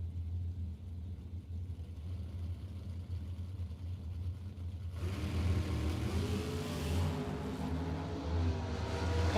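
At a drag strip, a dragster and a Chevy II rumble at the line, then engines surge into a loud, rising roar about halfway through as the pair launches, heard from a distance.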